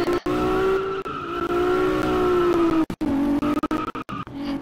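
Car tires on drift tires squealing in a sustained, wavering screech over engine noise, loud and close, broken by a few short cuts near the end.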